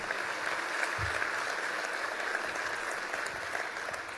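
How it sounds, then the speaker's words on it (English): A large benefit-dinner audience claps steadily, a dense, even wash of applause heard from some distance, with no talking over it. "I'll accept that applause"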